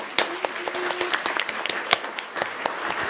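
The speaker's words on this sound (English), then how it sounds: "how about one more round of applause for the greatest profession ever" A modest round of applause at a Kent City Council meeting honoring the Parks and Recreation staff, scattered individual claps close by with murmured voices under them.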